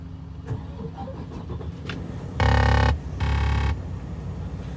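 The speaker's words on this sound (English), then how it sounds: "we're gonna get this truck started" A truck engine that won't stay idling cranks and catches in two loud bursts, the first roughly half a second and the second a little longer, over steady background rumble with no talk.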